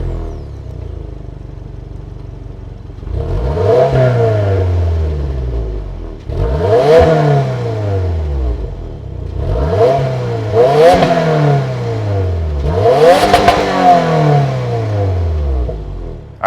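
A 2025 Subaru WRX's turbocharged 2.4-liter Boxer four-cylinder revs hard four times in succession, each rise followed by a falling settle back to idle, loud and close with no voices.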